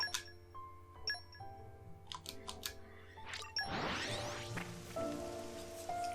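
Rain in the video game Xenoblade 2: Torna falls as a soft, steady patter mixed with faint chimes and ticks from the game, with a brief swelling whoosh midway and no voices.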